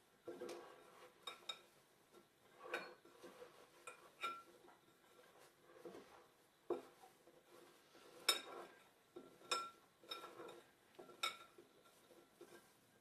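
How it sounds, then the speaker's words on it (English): Sliced apples tossed with a sugar coating in a bowl: soft, quiet scrapes and light clinks of a utensil against the bowl, coming in irregular bursts with brief pauses between. "you just want to really mix it around and make sure that all of the apples are coated in this stuff"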